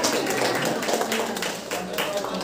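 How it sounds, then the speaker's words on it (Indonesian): Applause from a school audience at a vocational school outreach session in an Indonesian junior high, cheering classmates who have memorised Quran verses; dense, steady clapping that fills the room, mixed with voices throughout. "Boleh dong tepuk tangan tuh teman yang punya hafalan"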